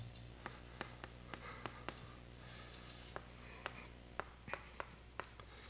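Chalk or marker strikes and strokes on a board during a mathematics lecture on symplectic topology, a series of sharp taps and short scrapes spread irregularly across a quiet, reverberant room with no talking.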